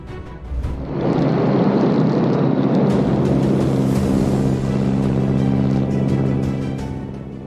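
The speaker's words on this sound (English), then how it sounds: "The aircraft touches down way too early, well short of the runway" A small aircraft touching down well short of the runway, heard as a loud, steady engine roar with broadband rushing noise that swells in after a brief quieter start and holds for several seconds before easing slightly.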